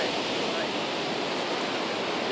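Steady broadband rush of surf breaking on Wediombo beach in Gunung Kidul, a sandy shore lined with rocks and coral, heard as a continuous loud wash with no pauses.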